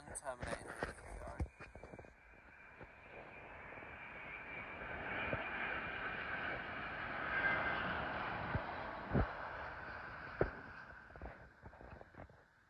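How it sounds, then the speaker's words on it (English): A Boeing 787 Dreamliner comes in to land at London Heathrow, a faint, distant jet roar that swells slowly and holds steady, with voices talking over it. "Terminating in from 787 Dreamliner from Portland, terminating in Heathrow."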